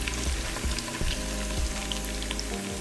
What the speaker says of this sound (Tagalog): Fry natin until golden brown.